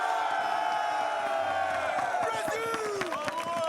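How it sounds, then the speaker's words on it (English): A large crowd at an esports finals event in Rio cheers and whoops loudly, a sustained roar with shouts rising over it, while an announcer's voice carries through. "It's a great crowd"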